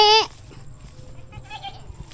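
A single loud goat bleat opens the clip, harmonic and nasal, then fades into quiet background rustle and faint distant sounds, at a village goat pen.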